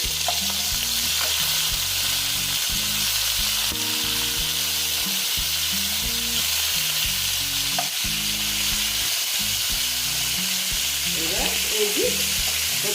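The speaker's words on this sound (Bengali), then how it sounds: "এবার আমি আস্তে আস্তে মাছগুলো ভেজে নিচ্ছি" Snakehead (shol) fish frying in a pan of hot oil, a loud, close, continuous sizzle that holds steady throughout with no talking.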